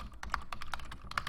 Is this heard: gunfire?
no